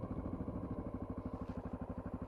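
A Honda XR650L single-cylinder engine idles slightly high with its side case fitted, a fast, even, pulsing thump, close and steady throughout.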